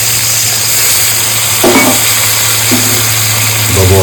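A pan of salted hilsa fish curry sizzles loudly and steadily up close after a little water is added, with a constant dense hiss and a few faint stirring scrapes, and no voices.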